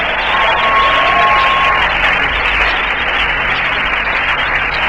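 Church congregation applauding and acclaiming during a French-language sermon on tithing; a loud, dense, continuous wash of clapping and crowd noise throughout.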